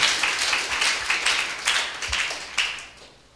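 Sparse, light clapping from a church congregation, a few scattered bursts of claps that thin out and fade toward the end.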